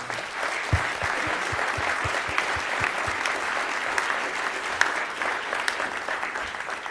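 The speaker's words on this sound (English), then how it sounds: "If you would please join me in a round of applause." Steady applause from a seated audience at a news-industry presentation, a dense even wash of many hands clapping for the full stretch with a few sharper claps standing out, no talking over it.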